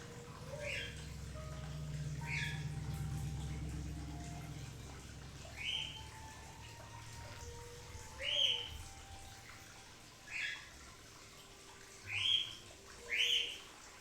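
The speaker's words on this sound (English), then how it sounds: "I think one of the birds is like cooing, and then the other bird's like telling him to shut up." Two birds call in a quiet setting, one giving soft cooing notes while sharp chirps repeat at intervals of a second or two, faint against a low background hum with no talk.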